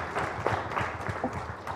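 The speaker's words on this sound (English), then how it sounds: "So I want to applaud you and say thank you to both you and Amy." Audience applause at a mayor's community meeting, a short stretch of scattered clapping from a modest crowd, moderately loud and fairly close, with a faint voice murmuring underneath.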